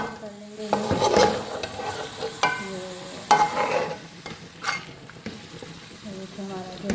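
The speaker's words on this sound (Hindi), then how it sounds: "ये मैं इसमें लहसुन और अदरक का पेस्ट डाल दूँगी" Garlic and ginger paste sizzling in a pot of nihari while being stirred, with soft intermittent scraping and frying crackle at close range and a few clanks of the spoon.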